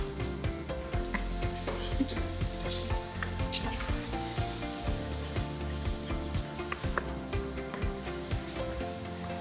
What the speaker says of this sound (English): So just let it sizzle,